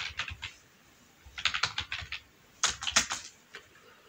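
Fingers tap out JavaScript code on a computer keyboard in quick, uneven bursts of clicking keystrokes, with short pauses between runs, close and clear.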